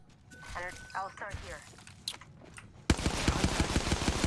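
Rapid automatic gunfire bursts out loud and close in Apex Legends, a fast rhythmic string of shots taking over after a stretch of quieter game sounds and a player's voice.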